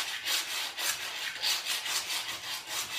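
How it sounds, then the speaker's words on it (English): Plastic Easter egg rubbed back and forth across a wood floor by a pug, a rough scraping rasp repeating in steady strokes, moderately close and fairly faint. "He has an Easter egg, and he's rubbing it across the floor, the wood floor, so that's why it's making that noise."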